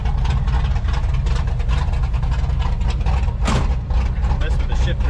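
A 1967 Camaro's engine runs steadily nearby, a loud continuous rumble at idle that holds even throughout with a brief sharper burst partway.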